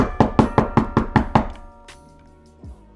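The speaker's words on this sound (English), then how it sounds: "Let's go knock at the door and see if he's home." Door knocking in the Roblox game, six evenly spaced loud raps in quick succession, then quiet with a faint thud near the end.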